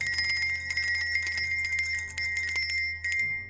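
A bell rung as a drinking-game signal rings out in a rapid, continuous jingling trill that stays loud and bright, then stops abruptly near the end before one brief final ring, with no talk.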